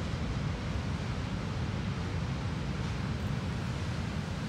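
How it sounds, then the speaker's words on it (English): Strong ocean surf on California's north coast near offshore sea stacks, a steady broadband roar of breaking waves mixed with wind, continuous and fairly loud with no voices. "Some pretty strong waves out there."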